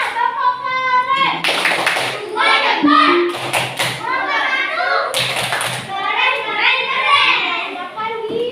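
Classroom of children doing a 'tepuk keren' clapping chant: bursts of group clapping and rhythmic claps mixed with children's chanting voices, loud and close, in several short sections.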